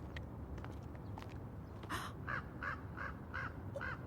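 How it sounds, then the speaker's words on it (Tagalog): A crow caws near an apartment at night, a run of five or six evenly spaced harsh calls following faint earlier rustling, moderately close over a low background hum. "May uwak na naman?"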